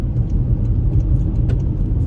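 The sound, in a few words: road noise inside a 2023 Toyota bZ4X cabin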